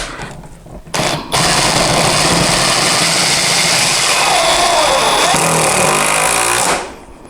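A Parkside PDSSAP 20 B2 cordless impact driver drives screws into wood, a loud continuous rattling hammer-and-motor whine that starts after a brief burst and runs steadily for several seconds before cutting off.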